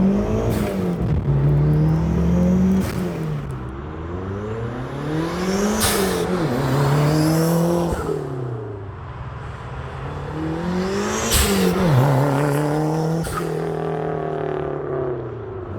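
A tuned Mitsubishi Eclipse GSX with bolt-on parts and a new computer revs hard, heard from outside: loud, sustained engine note that climbs and drops in repeated pulls as turbo boost builds, with no talking.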